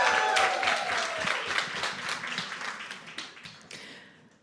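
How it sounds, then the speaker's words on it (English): Applause at a Women Over Dinner gathering in Harlem, brisk individual claps from a small group that start loud and gradually thin out and fade toward the end. "Let's give another round of applause for"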